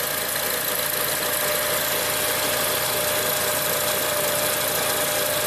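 An Acura RDX's engine idles steadily with a fault in its turbo boost control, giving a continuous dense mechanical hum with faint knocking texture throughout, loud and close with no talk.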